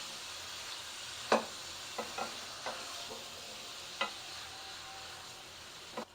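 Beef pieces and chopped bottle gourd fry in a pot, giving a soft steady sizzle with several sharp scrapes and stirring knocks at irregular intervals; no talking.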